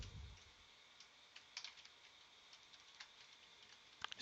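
Light typing on a computer keyboard while entering a banner message in a networking lab, soft scattered key clicks with a few sharper taps, quiet and alone.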